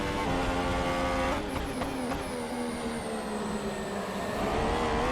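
A Formula One car from the F1 2014 racing game screams at full throttle, its engine note held high and steady then climbing and shifting through quick gear changes, loud and close with no talk.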